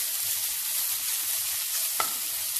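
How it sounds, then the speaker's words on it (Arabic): Minced meat stuffing stirred in a pan for stuffed aubergines and tomatoes, a steady soft sizzle with faint scraping throughout and one brief sharper clink near the end. "نستمر في الخلط، نقلوه مليح"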